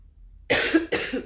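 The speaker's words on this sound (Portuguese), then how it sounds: "A minha tosse." Two harsh coughs in quick succession, close and loud, after a moment of near silence.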